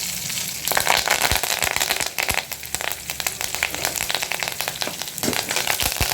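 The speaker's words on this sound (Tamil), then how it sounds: "இப்போ வெங்காயத்தை நல்லா வதக்கி விட்டுக்கலாம் வெங்காயம் நல்லா வதங்கணும்" Onions sauté in hot oil in a pan while making a plantain rasam, giving a loud, continuous close sizzle dense with sharp crackles and pops.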